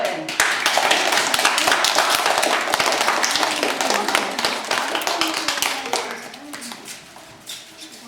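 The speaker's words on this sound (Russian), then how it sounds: "Похлопаем." An audience at a children's outdoor performance claps hands, a dense run of overlapping claps that carries on steadily and then thins out toward the end.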